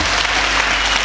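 Audience at a Hindi poetry recital breaks into dense, steady applause, loud and close, with no pause over the whole short stretch and no voices above it.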